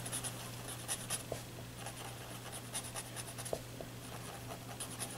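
A paper stump tortillon rubs and blends drawing material into paper, a soft continuous scratchy rustle with light strokes, close and quiet, no voice.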